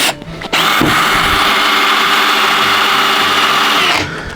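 Power drill driving screws into a wooden railroad layout table, a loud, close whirring burst of about three and a half seconds after a brief start, no talk.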